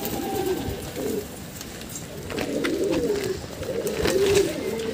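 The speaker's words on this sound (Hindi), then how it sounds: "बहुत ही लंबा चौड़ा कबूतर है ये" A pigeon coos in low, rolling phrases several times, close and moderately loud, with a faint background murmur.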